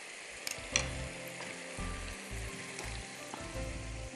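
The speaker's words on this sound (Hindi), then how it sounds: "मैंने शाताज कुकिंग ऑयल गरम किया था, उसमें मैंने चिकन डाल दी।" Boneless chicken pieces frying in heated cooking oil for a spicy chicken curry, a steady close sizzle with bursts of crackle and occasional pops, no voices.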